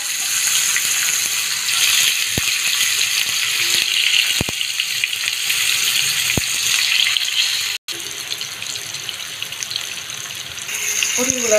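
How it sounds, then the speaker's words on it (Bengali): Pointed gourd pieces drop into hot oil in a frying pan, giving a steady, bright sizzle with a few sharp clicks and a brief break partway, fairly close and loud with no talking. "তেলটা গরম হয়ে গেছে, এখন পটলগুলো ছেড়ে দিচ্ছি দিয়ে রাখুন"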